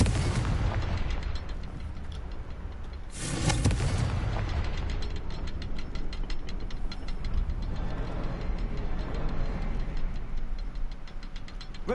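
A Confringo spell blast in Hogwarts Legacy, a sudden booming burst about a third of the way in, set against rumbling game ambience and rapid ticking that runs through the rest.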